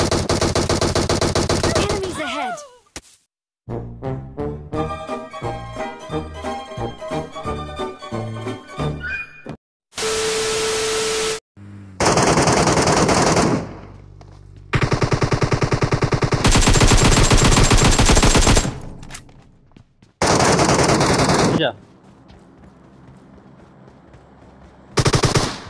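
Gunfire in the mobile battle royale PUBG / BGMI: repeated bursts of automatic rifle fire and single shots in loud clusters, separated by short silences, with players talking at times.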